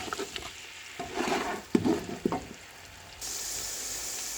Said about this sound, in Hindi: ये जो पाउडर मसाले थे ये सब इसमें डाल देंगे इस तरह से, और अब इसको 2 मिनट के लिए भूनेंगे